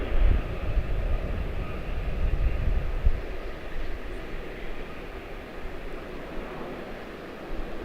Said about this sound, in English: Bombardier Global 7500 jumping out of here.